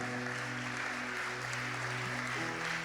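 A church congregation applauds during a worship service, a soft, distant wash of clapping beneath steady sustained keyboard tones.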